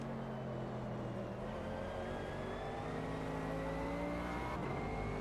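Mercedes race car in the racing game Automobilista 2 accelerating hard, its engine note climbing steadily through the revs, loud and continuous.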